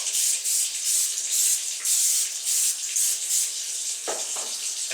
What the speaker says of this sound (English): Spray this side real nice and liberal with the oil.